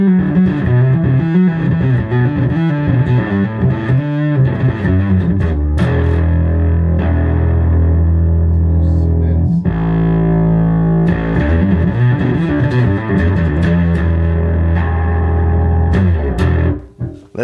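Heavy, distorted bass tones pour out of an Acoustic 450 amplifier in bass mode, loud and sustained, with gritty chords ringing continuously before cutting off at the end.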